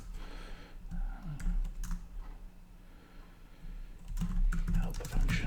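Typing code on a computer keyboard: irregular runs of crisp key clicks, louder in a dense burst near the end, close and moderately loud over a low background hum.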